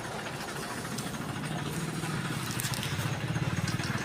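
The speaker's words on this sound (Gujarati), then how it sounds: "ભરેલું ટ્રેક્ટર આવી ગયું" A loaded tractor's diesel engine approaches at a cattle shelter, a low, faint chugging rumble that grows into a rhythmic pulsing toward the end.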